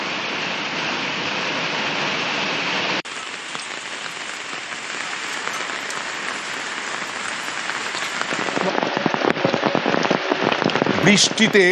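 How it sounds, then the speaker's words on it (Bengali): Heavy monsoon downpour in Dhupguri, North Bengal, a dense steady roar of rain drumming on surfaces, loud and continuous, with sharper spattering drops toward the end. "আর ধূপগুড়িতেও মুষলধারায় বৃষ্টি।"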